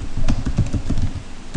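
A terminal command typed on a computer keyboard, a quick burst of close, crisp key clicks in an uneven rhythm, with no voices.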